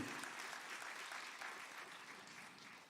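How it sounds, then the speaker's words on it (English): Graduates, families and guests at a 5th grade graduation ceremony clap for their teachers, a thick, sustained round of crowd applause that tapers slightly toward the end, heard alone without speech. "Can you give your teachers a hand clap and celebrate them today?"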